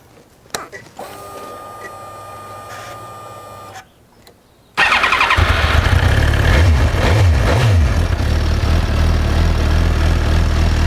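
A 2007 Suzuki GSX-R 1000 motorcycle after a battery swap. A whirring electrical hum and clicks come first, then the engine fires loudly into a steady idle with a couple of quick revs, close and alone.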